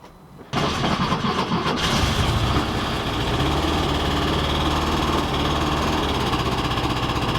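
A 1974 Volkswagen Westfalia Deluxe camper engine starts abruptly after a brief quiet moment, then settles into a steady, loud air-cooled idle with a fine, rapid lifter tick running through it.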